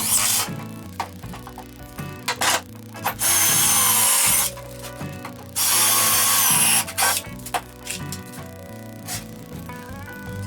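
Cordless power drill drives 1 1/4 inch screws into cedar planter legs, with two sustained loud whirring bursts between clicks, taps and clutch ratcheting, over faint background music.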